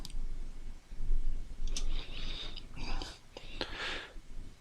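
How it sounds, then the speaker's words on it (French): A few crisp keyboard key clicks, close and quiet, spaced irregularly with soft breathy sounds between them. "on clique sur entrée du clavier."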